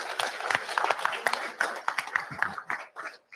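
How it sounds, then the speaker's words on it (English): An audience at a live drivers' meeting gives a round of applause for John, a dense, steady patter of many hands clapping that thins out and fades toward the end. "So let's give John another round of applause too."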